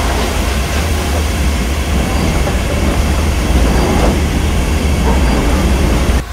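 A steam train pulling goods wagons rolls along steadily with a continuous rumble and rattle of wagons, wheels clicking and squealing faintly, loud and close with no pauses.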